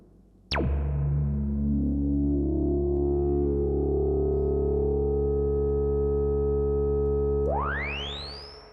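A Moog Grandmother analog synthesizer tone sweeps down sharply, then holds a rich, buzzing drone for several seconds before a rising sweep, washed in reverb as it fades out.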